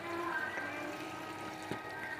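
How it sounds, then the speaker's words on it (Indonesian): Clean running water flows steadily as leaves are washed under it, a soft continuous splashing with no talk. "Ini kita cuci di air yang bersih,"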